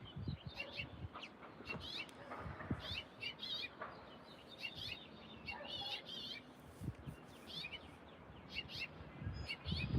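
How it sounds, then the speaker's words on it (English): Small finches chirping and twittering in a group, quick high calls overlapping one another, fairly close against faint background noise. "they're like finches, some kind of finch."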